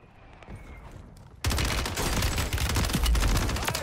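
Dense automatic gunfire from a first-person shooter, Warzone 3 on Rebirth Island, bursts in abruptly after a quiet stretch and keeps rattling loudly to the end.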